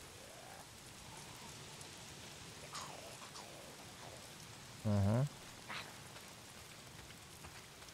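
Steady rain pours down in the video game Days Gone, a soft continuous hiss of falling drops, with faint in-game voices and a short low tonal sound rising briefly midway.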